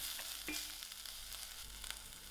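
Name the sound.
onions, ginger and garlic frying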